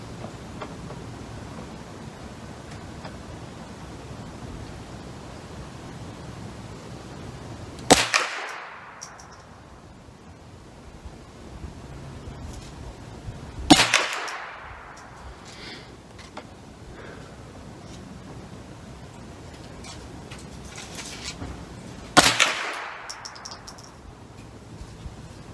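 A Ruger 10/22 rifle fires .22 Long Rifle rounds outdoors: three sharp single shots spaced several seconds apart, each with a short decaying echo over steady background noise.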